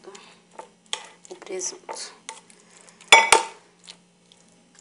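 Ham pâté mixture stirred in a bowl, with scattered scraping and clinking of a utensil against the bowl and a sharper clatter near the end. A person talks over it.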